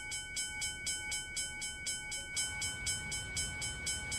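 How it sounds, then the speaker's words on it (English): A TGV high-speed train in the Bus Simulator 18 video game rolls past with a steady rhythmic clatter of wheels over rail joints and a sustained whistling tone, moderately loud and continuous. "There it is. The TGV."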